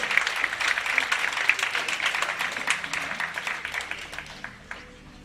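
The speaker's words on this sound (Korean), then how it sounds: "뜨거운 박수" Warm clapping from a church congregation at a presbytery worship service, a busy burst of hand claps that gradually thins out and fades toward the end.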